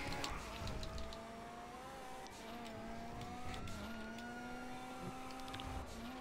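A fast car in a racing video game drives at a steady high rev, with a sustained engine whine that rises and falls slightly through gear changes and turns. Faint clicks sit underneath, and no one speaks.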